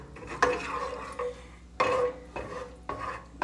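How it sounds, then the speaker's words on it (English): Ingredients are stirred in a bowl with a utensil, making repeated scraping, clinking strokes in uneven bursts about a second apart, close and fairly quiet. "we're just gonna kind of stir this around"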